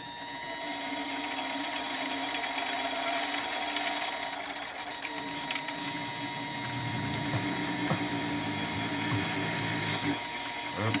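A drill bit held in a new collet chuck on a lathe tailstock bores into a workpiece, a steady whirring mechanical drone with faint ratcheting clicks, growing rougher and louder in the second half, with no talking.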